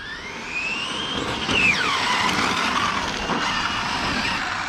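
A Porsche-bodied RC car with a 12S, 800kV setup and 6800mAh pack drives around a parking lot below full throttle, its electric whine rising and swooping in pitch as it passes, fairly loud with a slight hiss underneath.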